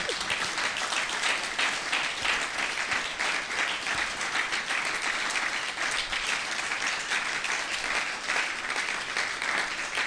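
A church congregation breaks into sustained applause for the Lord, a dense, even wash of clapping from many hands that carries on without pause throughout.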